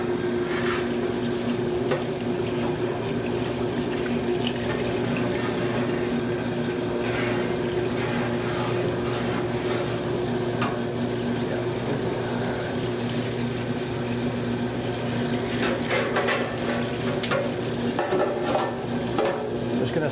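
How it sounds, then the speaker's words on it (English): Water rushes steadily through a commercial fryer being flushed of debris during a boil-out, a continuous close gushing and gurgling over a low pump hum with faint clanks, no voices. "flushing the fryer out, getting all the debris out"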